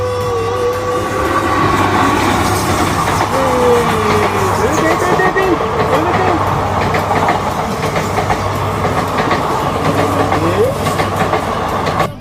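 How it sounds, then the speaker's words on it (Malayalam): A train passes through Kuriakkad railway station, a loud, steady rumble with rail clatter that fills the whole stretch, with faint voices and tonal squeals mixed in. "ഒരു ട്രെയിൻ വരുന്നുണ്ട്"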